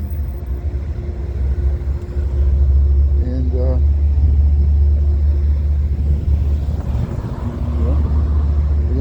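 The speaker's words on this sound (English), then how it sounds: "the train that just came in" An Amtrak train pulling into Rensselaer station, a deep steady rumble dominating throughout with brief squealing tones midway, people talking over it nearby.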